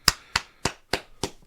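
Applause for a long marriage of almost 21 years, heard as five sharp, evenly spaced claps in about a second and a half, each a crisp close strike that fades quickly.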